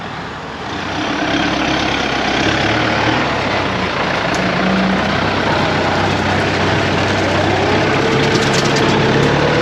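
Several road roller compactors, an M98 working alongside two M95 units in Krabi, run their engines together in a continuous loud, low diesel drone that holds steady throughout.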